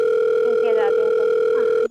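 A steady telephone ringback tone on an outgoing phone call, holding continuously for nearly two seconds, with faint background voices underneath.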